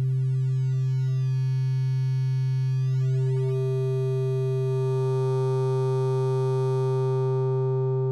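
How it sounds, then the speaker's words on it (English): Sustained synthesizer tone from a VCV Rack patch, a steady buzzing note whose upper harmonics sweep and shift as modules alter the waveform, loud and continuous throughout. "here's how it sounds and looks when we start altering the wave with the volt modules"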